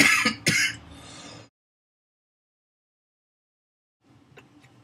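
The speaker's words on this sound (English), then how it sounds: "Pardon me for the little coughing fit that I had there" A couple of sharp throat-clearing coughs up close, followed by silence and then faint rustling.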